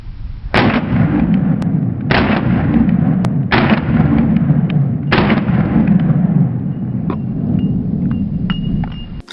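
Four loud 9mm pistol shots, 124 grain rounds from a Sig P365XL Spectre Comp and other subcompact pistols, fire at roughly one-and-a-half-second intervals, each crack trailing into a long rumbling echo, with faint metallic clinks afterward.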